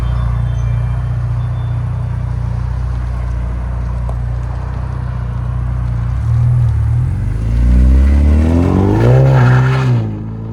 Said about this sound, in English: Let's see what this Ecoboost brand new Mustang can do.